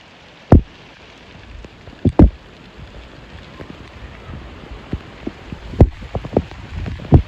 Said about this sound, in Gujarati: આજ વરસાદ આવ્યો છે.